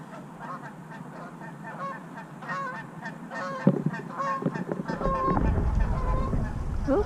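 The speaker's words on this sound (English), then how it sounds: "And there's a bunch honking on the other side." A flock of geese honks repeatedly near a boat tied at a free dock by the Great Bridge Lock on the Intracoastal Waterway, overlapping calls at moderate distance over rumbling background noise that grows louder toward the end.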